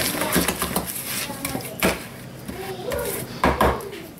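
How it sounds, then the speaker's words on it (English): Sponge cake batter remixed with a spatula in a bowl, irregular scraping and knocking of the utensil against the bowl sides, several louder bumps and clatters at close range. "Now I'm just gonna get my spatula and remix, because the butter does like to get in the corners and not mix properly."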